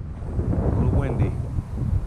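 Coastal wind at Wilson's Cut in Port Aransas gusts against the microphone, a steady low buffeting roar throughout with a brief voice over it.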